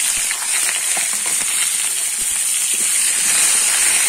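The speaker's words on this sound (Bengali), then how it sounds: "বেগুনটা আমি একটু ভেজে নেব।" Eggplant fries in hot oil with a bright, continuous sizzling hiss and faint scattered crackles, close and steady throughout, with no voices.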